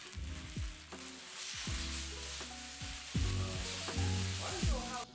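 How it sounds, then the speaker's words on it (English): Chicken thighs laid one by one onto a smoking, oiled Blackstone griddle, each landing with a fresh burst of loud sizzle over a steady hiss of hot oil, with no talk. "Clean off your grill, hit it with some more oil, wait till it starts to smoke, and start to line up your chickies"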